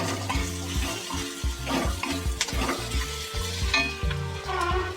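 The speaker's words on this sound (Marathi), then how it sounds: "कांदा भाजतोय" Chopped onions sizzle and fry steadily in a pan over a lowered gas flame while being stirred, a continuous close crackle with faint clinks and scraping.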